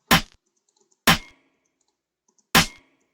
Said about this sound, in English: On the snare, I layered 3 snares together,